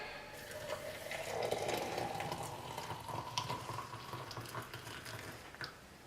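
Hot water just off the boil poured into an Impress coffee brewer, a close continuous splashing pour that rises then settles into a gurgling trickle before tapering off.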